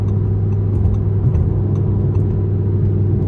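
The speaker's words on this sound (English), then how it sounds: "the sound of this V10 is what really makes this such a desirable car" A 2017 Audi R8 V10 Plus engine drones loudly and steadily while driving, a deep even rumble from inside the car with no talking.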